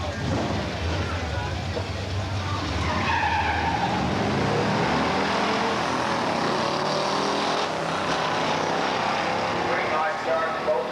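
A 1971 Challenger R/T with a 440 six-pack and four-speed and a 1965 GTO with a 389 and automatic launch side by side at the Beech Bend drag strip, a loud, steady roar of engines and tire noise while an announcer talks over it.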